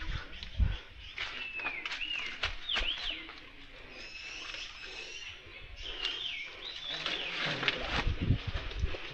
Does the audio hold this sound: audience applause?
no